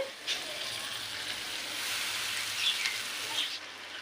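Egg noodle ingredients frying in an oil-filled pan, a steady close sizzle with soft crackles and occasional utensil clicks, no voices.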